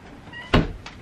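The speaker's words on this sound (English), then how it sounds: "Shut the door." A door thumps shut once indoors, a single short knock-like impact with a faint echo just after, heard alone against a quiet room.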